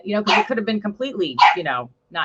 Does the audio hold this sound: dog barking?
yes